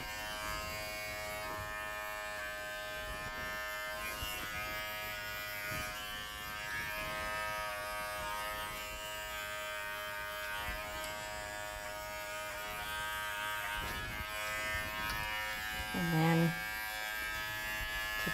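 Wahl Figura lithium-ion clipper buzzing steadily while trimming a standard poodle's underside, a faint even motor hum that keeps on throughout with small handling noises.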